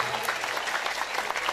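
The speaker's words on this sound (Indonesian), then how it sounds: "Tepuk tangan untuk anak-anak kita" Dense applause from a gathered crowd at a school inauguration ceremony in Central Java, clapping for the children; brief, steady and fairly loud, with no break.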